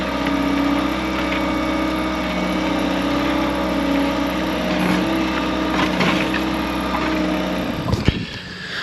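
A post hole auger spinning steadily while digging holes for a pole barn build, its engine droning continuously at close range, ending with a sudden clunk and drop-off near the end.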